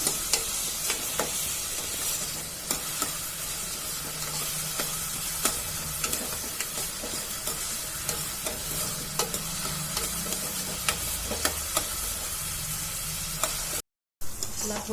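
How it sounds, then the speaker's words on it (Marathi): Onion fries in a pan for a chicken Kolhapuri, giving a continuous gentle sizzle with repeated spatula scrapes and taps against the pan, close and steady, with one very short dropout near the end and no talking. "कांदा चांगला गुलाबी रंग येईपर्यंत शिजू देऊया"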